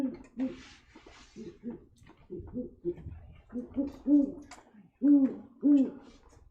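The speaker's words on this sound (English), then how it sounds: "So today we are going to be hanging out with and chatting about Oswald, the great horned owl" A great horned owl gives a series of deep, hollow hoots close by, the calls growing louder and more spaced toward the end, with some quiet murmuring early on.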